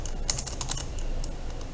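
Quick run of keystrokes on a computer keyboard, several close clicks in a burst followed by a few sparser taps over a low steady room hum, with no talking.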